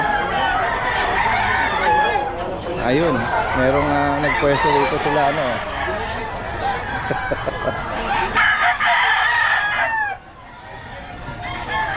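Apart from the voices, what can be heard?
roosters crowing at a market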